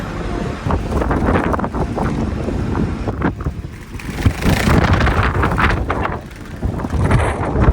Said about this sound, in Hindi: ये कोने पे मुझसे खड़ा नहीं हो जा रहा है, इतनी तेज हवा चल रही है